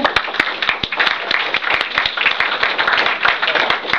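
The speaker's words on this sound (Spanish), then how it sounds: "así que un aplauso grande" An audience at an academic presentation session breaks into loud, sustained applause, dense overlapping claps filling the room for several seconds.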